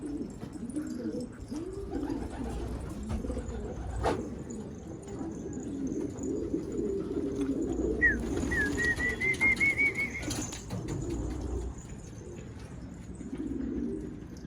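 Pigeons coo in soft repeated low calls, and wings flap in a brief burst partway through. A thin whistle-like tone rises and runs for a couple of seconds, and light background noise continues throughout.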